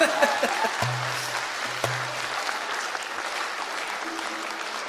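Concert audience applause at a solo concert: a full crowd claps continuously and evenly throughout, with a couple of brief sustained tones and a sharp knock heard over the clapping.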